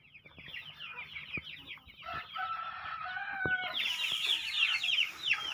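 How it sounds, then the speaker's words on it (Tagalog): Many chickens cluck and chatter continuously nearby, with a rooster-like call rising toward the end amid farmyard noise. "Marami mga manok."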